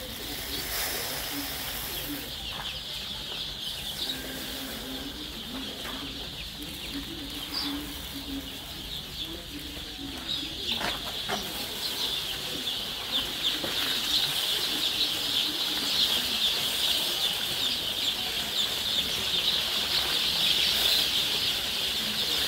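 Eleven-day-old native gavran chicks in a poultry brood chirp together in a dense, high, continuous chorus that grows slightly louder toward the end, with some soft shuffling and wing flutters underneath.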